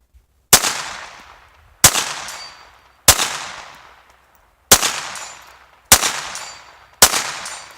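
Ruger Standard .22lr pistol firing at a steel plate 100 yards away, six loud sharp shots spaced about a second apart, each followed by a decaying ring and echo, with no voices.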